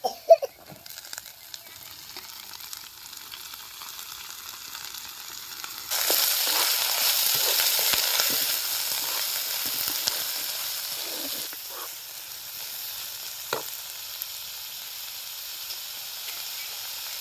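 Chopped capsicum hits a pan of browned onion cooked on a wood-fired stove and sizzles into a loud, steady hiss, with stirring scrapes that ease to a softer frying sizzle.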